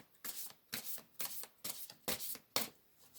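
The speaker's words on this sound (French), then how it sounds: "Allez hop, je rebats." Tarot cards are riffled and shuffled close up: about six quick, crisp bursts of papery flutter in a steady rhythm, quiet and with no voices.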